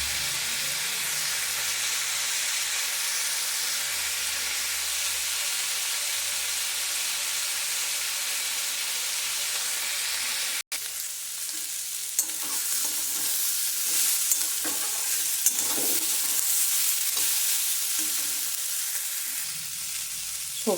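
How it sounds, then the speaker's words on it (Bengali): Vegetables sizzle and fry in a pan for a spinach curry, a steady loud hiss with a brief break midway, followed by scraping stirring strokes and crackles as the frying continues. "সবজিগুলো তো মোটামুটি ভাজা হয়ে গেছে, আমি বেশি ভাজবো না"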